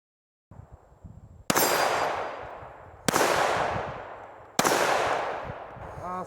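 An FN 5.7 pistol firing Fiocchi rounds fires three loud, sharp shots at roughly even intervals, each blast trailing off in a long echoing decay, with faint handling noise before the first shot.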